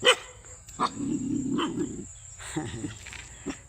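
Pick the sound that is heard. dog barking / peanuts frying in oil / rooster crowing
dog barking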